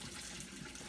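Water pouring out of a film developing tank during the stabilize step of color film processing, a steady close splashing stream running continuously throughout.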